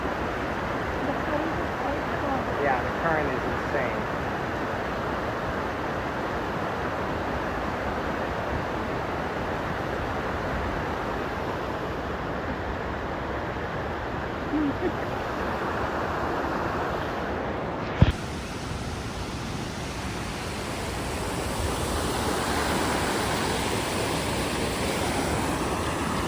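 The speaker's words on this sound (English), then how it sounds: "the current is insane" A strong river current surges toward a big waterfall in an Indian jungle, a steady, dense rushing roar that holds for the whole stretch, broken by one sharp knock partway through.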